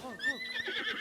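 Horse neighing and whinnying in The Legend of Zelda: Breath of the Wild, a rising-and-falling game whinny with trailing snorts across a second, fairly close, with faint talk beneath.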